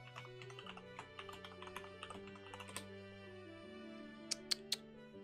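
Close, light keystrokes on a computer keyboard as a command is typed, an irregular run of soft clicks followed by a few sharper taps near the end, over a faint steady hum.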